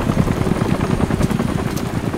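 Helicopter in the Call of Duty Modern Warfare 3 (2023) video game, a steady loud rotor thump and engine drone filling the whole stretch with no talk over it.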